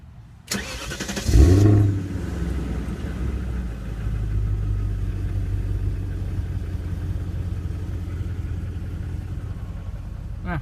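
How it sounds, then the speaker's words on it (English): A 2002 BMW 540i V8 is started up: a brief starter crank, then a loud catch and rev flare, which settles into a steady, deep, rumbling idle that runs on close to the car. "I'm gonna cold start it."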